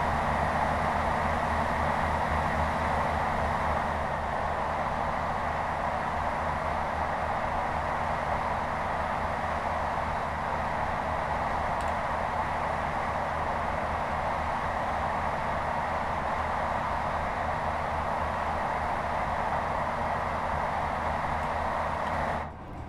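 A train in Train Sim World 3 heard from outside, a steady, loud rumble and hum of the running train with constant rolling noise, unchanging for the whole stretch.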